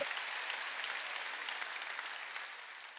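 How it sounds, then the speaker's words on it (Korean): A church congregation at a New Year's Eve service claps together in a dense, steady roar of applause that holds for the whole stretch, with no voices standing out. "박수치며 하나님께 더 세게 치라고, 더 세게"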